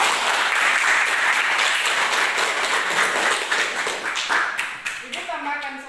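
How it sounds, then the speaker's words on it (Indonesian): A classroom of students claps together in a lively burst that thins out toward the end, with scattered last claps and a voice beginning to speak as it fades. "Ya, tepuk tangan."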